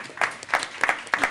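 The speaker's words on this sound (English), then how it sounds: "Y'all can clap if you want." At a school board meeting, a handful of people clap in short, sparse bursts of a few claps each, brief and moderately close, with no talking.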